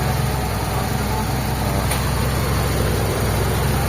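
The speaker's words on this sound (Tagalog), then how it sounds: "sobrang palag ng makina niya, sumasayaw" Mitsubishi Lancer GLi engine idling roughly and shaking with a distributor fault, a loud, close, low continuous rumble with a steady pulsing throb and no speech.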